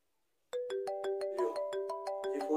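Mobile phone ringtone for an incoming call starts abruptly and plays alone as a bright, steady melodic sequence of evenly spaced electronic notes, close and clear.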